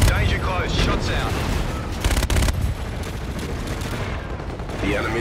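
Booming impacts and rattling fire roll out during a Call of Duty airstrike, a dense, loud barrage of blasts with radio-style voices talking over it.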